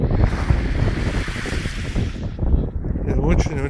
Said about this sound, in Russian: Вот оно, Охотское море.